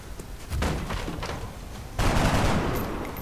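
Rapid gunfire volleys in the XCOM video game, dense crackling bursts that swell and continue loudly over a few seconds.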